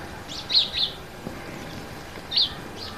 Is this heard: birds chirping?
yes